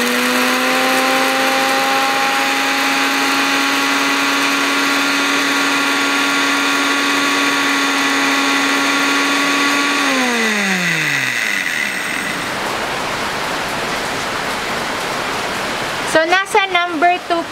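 A BARDEFU 6-in-1 blender grinding coffee beans, its motor whining loudly and steadily before spinning down, then brief rattling and clatter at the end, with a person talking nearby.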